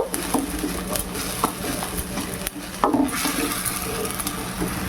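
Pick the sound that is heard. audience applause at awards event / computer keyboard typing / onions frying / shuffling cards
onions frying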